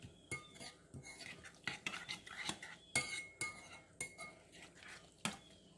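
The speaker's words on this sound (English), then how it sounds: "Give that a stir, get that all mixed together." A spoon stirs dried herbs and dried chives through a dish in a bowl, with close, repeated clinks and scrapes of metal against the bowl in an uneven rhythm.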